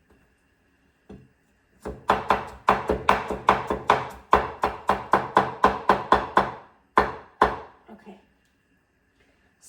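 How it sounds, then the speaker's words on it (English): A knife chops chicken wings into pieces on a cutting board with a steady run of about twenty sharp, close knocks. The chopping is preceded by a single tap, then ends with a few slower strokes, and a voice speaks briefly. "So cut it into the pieces first, and then cut it into slices"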